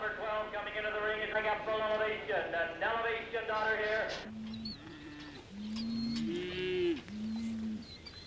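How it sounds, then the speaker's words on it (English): Beef steers moo repeatedly at moderate distance, long drawn-out calls overlapping with a lower, steadier lowing in the second half, with faint bird chirps in the background. "The beef steer is a very different animal from the dairy cow, but they have things in common."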